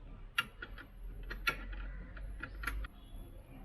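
A wrench tightening a bolt on a Powerage slip-on exhaust for a Royal Enfield Interceptor 650, heard as a few sparse, sharp metallic clicks and ticks over a quiet low hum, close but fairly faint.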